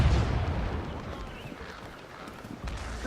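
Ship cannons fire in a naval battle in the video game Assassin's Creed Rogue Remastered, a heavy, rumbling low boom at the start that fades into a dense, noisy roar, swelling again at the end.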